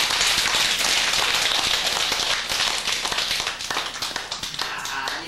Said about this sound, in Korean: 와닿으면 박수나 쳐고 치우자